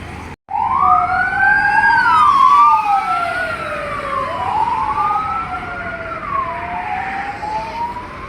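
An ambulance siren wails on the NH66 highway, loud and close, its rising and falling tones sweeping over steady road-traffic noise after a brief pause at the start.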